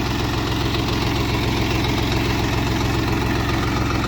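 A small two-wheel-drive tractor engine runs steadily while hilling potatoes, a loud, even low chugging throughout with no voices.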